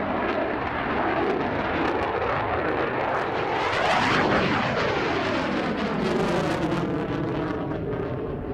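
Large-scale model Wellington bomber flying at an air show at Cottesmore, a loud continuous engine drone that swells as it passes closest and then slowly fades with a shifting pitch.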